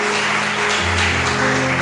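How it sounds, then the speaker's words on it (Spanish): A church congregation claps together in a sustained wash of applause, with sustained musical tones beneath it, steady and fairly loud from start to end. "¿Cuántos pueden darle un aplauso al Señor en esta noche?"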